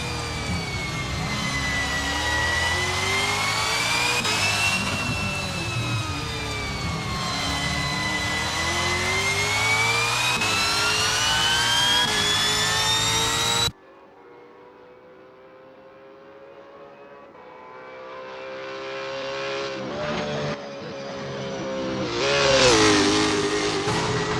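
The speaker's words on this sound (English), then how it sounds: "Smells Like We is getting to grips with the Supercar V8 Nissan Altima L33 in this practice session" A V8 Supercar Nissan Altima L33 in Assetto Corsa at the Adelaide 500 street circuit, engine wailing at high revs with rising and falling pitch through gear changes, then dropping abruptly to a quieter, more distant drone that builds again.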